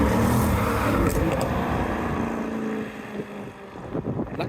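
A Mercedes car drives past at a car meet with a loud engine roar and wind buffeting up close, which recedes and thins out toward the end with no clear talking.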